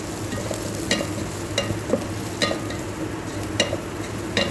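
Garam masala and salt are sautéed in a pan for tomato rice, giving a continuous close frying sizzle broken by regular spatula scrapes and taps every second or so.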